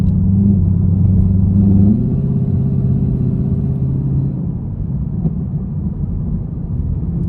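A V8 Chevrolet Camaro engine with new spark plugs and wiring hums along at a steady low rumble, the pitch shifting slightly as it cruises with no talking.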